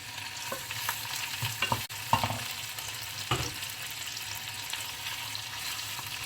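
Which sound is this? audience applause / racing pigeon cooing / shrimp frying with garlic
shrimp frying with garlic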